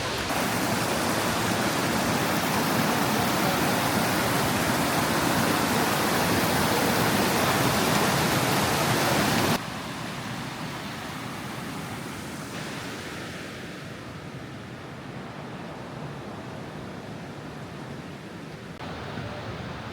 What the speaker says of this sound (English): this is the main waterfall here at Plitvice